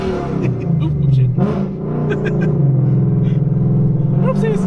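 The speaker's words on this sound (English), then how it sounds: "You want to hear a flame ball? Right next to this car." A 550-horsepower Ford Mustang GT rumbles and revs loudly up close, its exhaust popping and crackling as it spits a flame ball beside another car, with people talking over the engine throughout.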